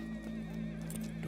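A horse neighs in a single sustained whinny, close and fairly loud, with a steady low hum beneath it and no talk.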